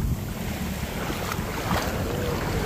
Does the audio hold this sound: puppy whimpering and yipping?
no